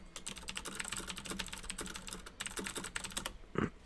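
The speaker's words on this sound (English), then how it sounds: "I'm going to type at you." Fast, continuous typing on a computer keyboard, a dense patter of close key clicks with no talking.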